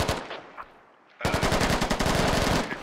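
Rapid bursts of automatic gunfire in the military shooter game Squad, a quiet lull giving way to a sustained, loud stream of closely spaced shots that continues to the end.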